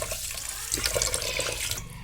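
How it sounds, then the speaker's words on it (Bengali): Rice and red lentils are rinsed in water in a home kitchen, with a steady close rush of running and sloshing water and no voices. "চাল ডালে মোটামুটি ভালোই ময়লা ছিল, বেশ কয়েকবার পানি চেঞ্জ করে ধুয়ে নিলাম।"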